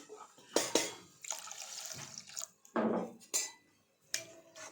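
Water poured into a pan of ridge gourd curry cooking with dried prawns, a few short splashing and clattering bursts separated by quiet gaps, close and fairly soft.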